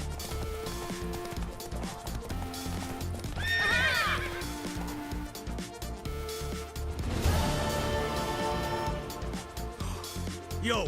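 A horse in the video game The Witcher 3: Wild Hunt whinnies twice, loud and close, over rapid galloping hoofbeats and a busy background of music-like tones.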